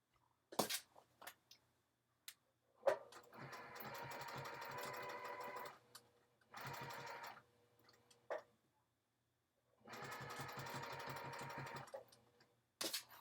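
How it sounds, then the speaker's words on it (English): A sewing machine stitches a seam close to the fabric edge, running in several steady bursts of a few seconds each, separated by short pauses, clicks and handling noises, fairly close and with no talk. "I'm stitching this really close to the edge again."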